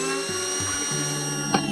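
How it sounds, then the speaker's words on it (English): A power drill spins up in short whining bursts, driving screws into a wooden beehive box from a hive kit, with a sharp knock near the end, close and fairly loud. "I'm going to go through and put the rest of the screws in there"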